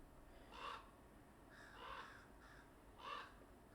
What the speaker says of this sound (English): Let's take a moment for that bird right quick.